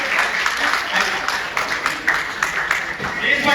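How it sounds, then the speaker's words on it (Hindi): Enthusiastic crowd applause welcoming a child at a Dussehra Shastra Puja gathering, dense clapping that swells in waves throughout. "जोरदार तालियों से बच्चे का स्वागत होना चाहिए।"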